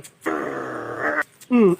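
A long, rough, harmonic vocal growl lasting about a second, followed after a short gap by a sharper, louder yelp-like cry.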